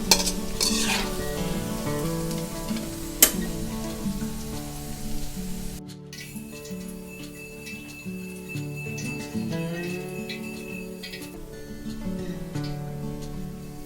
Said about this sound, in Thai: รอบนี้เราก็จะใช้เวลาทอดไม่นานนะคะ